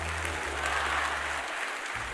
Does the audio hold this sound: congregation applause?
yes